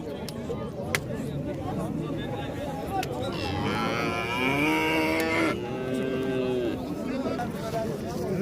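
Cattle at a busy livestock market, including a bull calf, give several drawn-out moos close by while people talk in the background.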